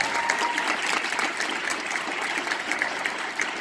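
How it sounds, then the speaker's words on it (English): Audience at an evening whole-food plant-based forum applauds steadily and loudly throughout, a dense even wash of clapping with no voices over it. "Another round of applause."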